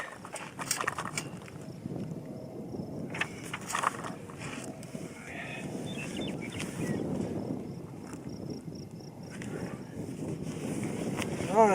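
Wind gusting across an outdoor shooting range, a steady broadband rush with buffeting against the microphone throughout, rising slightly at the end.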